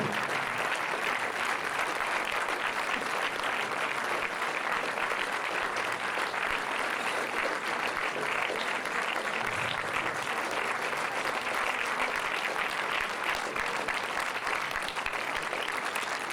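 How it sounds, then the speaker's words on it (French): Sustained audience applause fills a cinema hall at a 2009 film festival gathering, a dense steady wash of many hands clapping from start to finish with no talk over it. "il mérite vos applaudissements"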